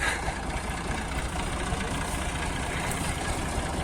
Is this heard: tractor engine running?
yes